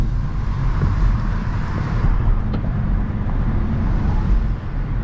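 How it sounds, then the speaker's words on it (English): Traffic in a typical United States traffic jam, a loud, steady low rumble of idling and creeping vehicles with a constant road-noise hiss and no clear voices. "This is a typical traffic jam here in the United States."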